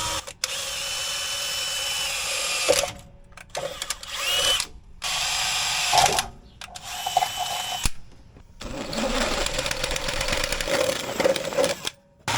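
A power drill bores holes out to 1/2 inch while fitting a MetalCloak evap canister relocation kit on a 2007 Jeep JK, loud close whirring in long runs broken by brief stops and restarts.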